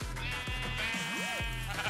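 Sheep in the video game Minecraft bleat several times in quick succession, clear and close, with a steady backdrop of in-game sound.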